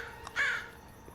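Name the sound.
crow cawing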